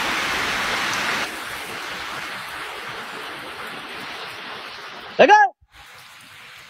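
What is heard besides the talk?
rain falling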